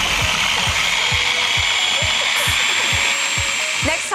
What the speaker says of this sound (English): Pop the lid on your food processor and give it a blitz.